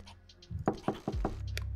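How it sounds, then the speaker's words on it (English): Four quick, evenly spaced knocks on a door sound in the video game Missed Messages, crisp and close over a faint background hum. "Knock."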